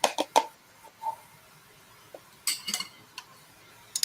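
Thick batter is spooned into little muffin cups, giving sharp metallic clinks and taps of a spoon against the tin in uneven bursts, separated by quiet pauses, close and alone.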